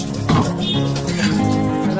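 Water pours and splashes steadily as the water in a home fish tank is changed, a continuous close running-water sound with a brief louder gush early on.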